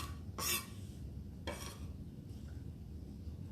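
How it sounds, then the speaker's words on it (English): Cauliflower sauce being mixed in a pitcher, with two short sharp scraping strokes of a utensil against the container over a quiet room background. "I'm just going to mix this up right here in the pitcher."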